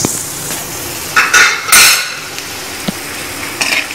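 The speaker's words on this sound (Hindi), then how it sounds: "जो मूंगफली है, मूंगफली इसमें डाल के पहले इसको रोस्ट करेंगे।" Peanuts roasting in hot oil in a pan while a metal spoon stirs them, giving a soft steady sizzle broken by several scraping, clinking strokes against the pan, close and without voices.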